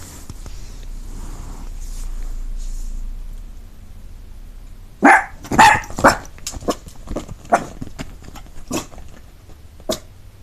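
Several dogs bark in a burst of sharp, loud, repeated barks close by inside a home, following a few seconds of quiet room noise.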